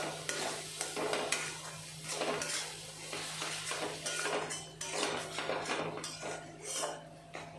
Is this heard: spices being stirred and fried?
yes